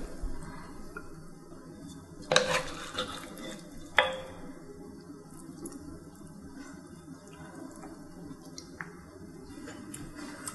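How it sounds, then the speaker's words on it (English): Korean braised beef short ribs stirred in a pot after sesame oil goes in, giving soft wet squishing and a couple of sharp clinks against the pot over a low steady background. "And stir this."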